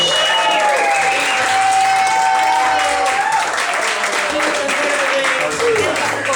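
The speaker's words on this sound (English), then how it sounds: "Give him a round of applause." Audience applause and cheering greet a performer walking onstage at a live show, a steady wash of clapping that fills the whole stretch at close range, with crowd voices and whoops mixed in.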